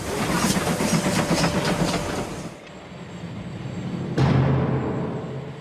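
Steam engines pulling away on rails rumble and clatter steadily, then fall quiet before a sudden sharp hiss of steam bursts out and trails off, with no talking.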